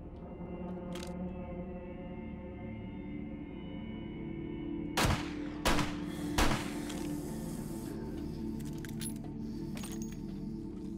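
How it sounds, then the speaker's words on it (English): Three sharp, loud gunshots ring out in quick succession in the video game 7 Days To Die (Alpha 20), over a low steady hum. "I hear gunshots over there."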